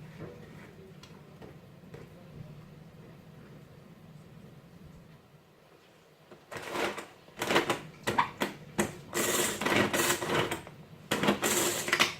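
A food processor chops homemade taco ingredients in loud, rough, stuttering bursts of motor whir and rattling blades. The bursts start abruptly after several seconds of quiet kitchen background.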